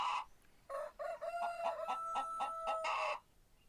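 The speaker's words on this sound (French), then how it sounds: "Et un coq, qui hurlait à n'importe quelle heure du jour, et dont le cri résonnait dans toute la vallée." A rooster in a hillside valley gives one full crow, near and clear, its call breaking into rapid stuttering pulses before a long drawn final note, with no voices around it.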